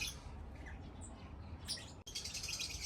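Zebra finches in an outdoor colony-breeding aviary give thin, high chirps and tweets scattered over a steady background hiss, moderately near and fairly faint, with no talking.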